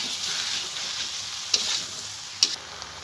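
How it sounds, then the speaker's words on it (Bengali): Bottle gourd being stir-fried with prawns in a pan gives a steady, close sizzle, and two sharp scrapes of a spatula break through it. "লাউটা দিয়ে আমি একটু নেড়েচেড়ে নিয়েছি।"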